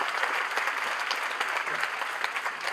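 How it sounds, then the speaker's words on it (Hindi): An audience at a book release event in honour of a singer's 50 years of playback singing claps steadily, a dense, even wash of applause that holds without a break. "तालियों की आवाज बरकरार रखिए साथियों"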